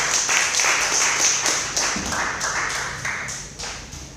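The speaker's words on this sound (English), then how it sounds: "Please, can we give a round of applause as we welcome Tomoto up to the stage." A conference audience at a startup demo day in Singapore claps steadily as a company is welcomed to the stage, a dense, even patter of hands that fades slightly toward the end.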